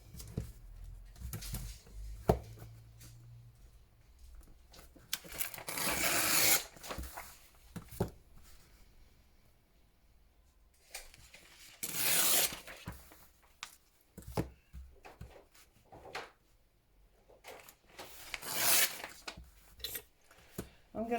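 White paper is trimmed for a handmade card, with three distinct swishing slicing strokes spread across the stretch and quiet handling rustles and taps in between.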